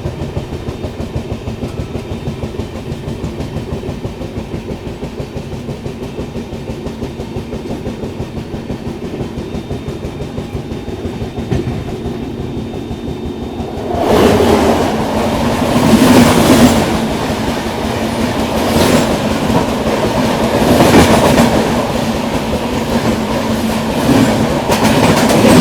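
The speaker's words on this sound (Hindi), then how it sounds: "इस सामने से आ रही है लखनऊ बरौनी एक्सप्रेस।" Lucknow Barauni Express train passing on an adjacent track, a steady rolling rumble giving way to louder rushing wheel clatter and rhythmic clicks as the coaches go by close, heard from aboard another moving train.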